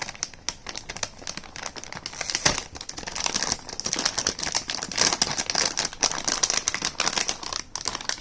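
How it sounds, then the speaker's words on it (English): Packaging for a GTX 1050 Ti graphics card being opened, with close, loud crinkling and rustling of plastic and cardboard in irregular bursts throughout. "Now we are gonna open this card"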